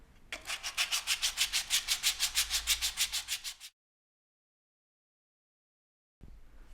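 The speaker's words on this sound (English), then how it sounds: "it's using 120 grit sandpaper and sanding in the direction of the grain" Rhythmic back-and-forth rasp of 120 grit sandpaper on a wood repair, worked along the grain, about twenty quick even strokes up close before stopping to silence.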